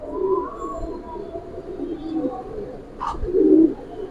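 Jabra Pankhi Giribaz pigeons coo in soft, low bursts near the start and again more loudly toward the end, with a murmur of background noise and a brief sharp sound in between.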